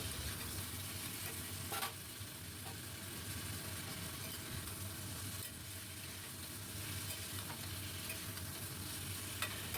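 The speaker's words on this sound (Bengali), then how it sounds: "খুব ভালো করে এভাবে ভেজে নেব যতক্ষণ ঝিঙের জলটা শুকিয়ে না যায়।" Pieces of ridge gourd fry on a high flame, giving off a loud continuous sizzle and steam as they release water, with occasional stirring scrapes.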